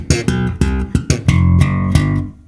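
A funky slap bass groove, bar four of the pattern. Sharp percussive slaps and pops are played close and loud in a quick syncopated rhythm, then the final note rings out and fades.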